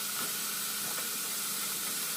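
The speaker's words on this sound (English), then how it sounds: "in with my ground beef. I'm going to do the same, break that down, saute it up really good" Ground beef sautéing in a pan while being broken up for lasagna, a steady close sizzle and hiss of steam that carries on evenly with no pauses.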